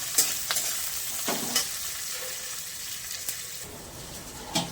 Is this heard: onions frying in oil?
yes